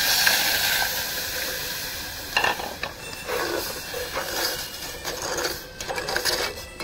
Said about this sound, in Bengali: এবার আমি এর মধ্যে দুধ দিয়ে দেবো।